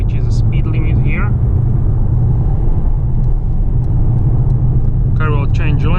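A 2020 Mercedes-AMG GT 53 4-Door Coupé speeds up to 130 km/h, its engine a steady, loud low rumble with a constant whoosh of road and wind noise inside the cabin, while a voice talks over it at the start and end.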